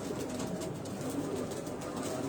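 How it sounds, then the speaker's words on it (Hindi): Pigeons in an indoor loft with netted cages, a soft continuous murmur of low cooing and rustling throughout, steady and moderately near with no talk. "ये अंदर का माहौल है सारा कबूतरों का।"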